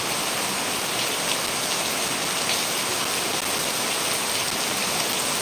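Heavy monsoon downpour with thunder and lightning pours down steadily in a dense, unbroken roar that stays loud and even throughout, with no voices.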